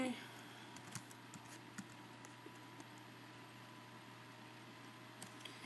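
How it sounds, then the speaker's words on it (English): Soft, irregular key clicks from a computer keyboard being typed on, faint and close, over a steady background hum, with a few louder taps near the start and end. "So let's type in here."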